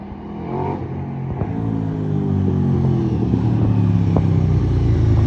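A KTM 990 Adventure motorcycle engine runs close by, its rumble rising as it revs up and climbs steadily in pitch, then holds a loud, even drone, with no talk.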